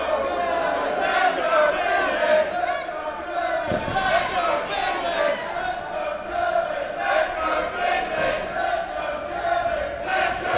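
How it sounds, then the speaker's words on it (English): A loud, split crowd at a live pro wrestling show (SWE, Finlay versus Martin Kirby) roars and chants continuously, a dense wall of cheering and shouting with a single heavy thud partway through. "This crowd is deafening. Split crowd, 50-50."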